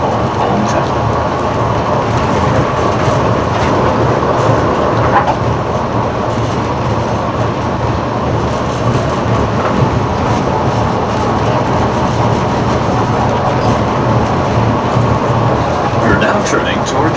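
Disneyland Monorail, an automated train at the Magic Kingdom, running with a steady close rumble and rail clatter throughout, with a faint narrating voice beneath the noise.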